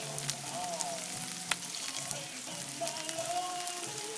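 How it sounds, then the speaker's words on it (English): Onions and ginger frying for a chicken curry on an outdoor BBQ in the rain, a steady close sizzle with faint crackles and pops throughout, no talking. "The onions are cooking, the ginger just went in."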